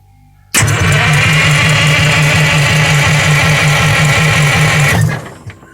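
A bus engine cranks and catches, then runs loud and rough with a steady low chugging throb for several seconds before cutting out, with smoke pouring from it.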